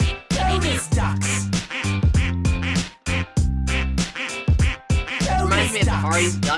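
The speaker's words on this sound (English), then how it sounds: "This is a bunch of ducks." Cartoonish duck quacks from a quirky Roblox game, a dense run of loud, rapid repeated calls with a musical, voice-like quality filling the whole stretch, with brief gaps between bursts.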